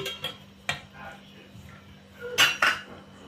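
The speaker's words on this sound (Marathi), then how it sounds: "सर्वप्रथम पातेल्यात 2 पळ्या तेल टाकून घेऊयात" A ladle clinks against a metal cooking pot as oil is added for green chicken, several sharp close metallic taps and scrapes spaced irregularly, with a brief cluster of louder clinks near the end.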